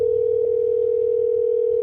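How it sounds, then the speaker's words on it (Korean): A steady, unbroken telephone line tone holds while a call is being connected, constant and clear with nothing else over it. "전화를 연결해 드릴 때까지 잠시만 기다려 주세요."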